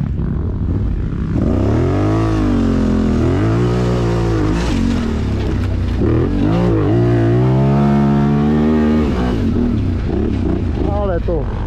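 A 300cc motorcycle accelerates hard up close, its loud engine climbing in pitch through several rising revving sweeps, dropping briefly between gears before surging again.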